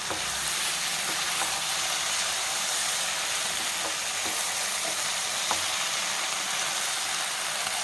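Curry leaves crackle and sizzle in hot oil in a pan of cauliflower curry, a steady close frying hiss throughout with a few sharp pops, no voices.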